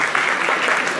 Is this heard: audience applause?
yes